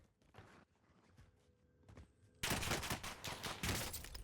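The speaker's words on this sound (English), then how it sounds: "he's shooting already" Gunfire in Call of Duty Warzone on the Verdansk map, a few scattered shots and footsteps at first, then a sudden loud burst of rapid automatic fire that keeps going to the end.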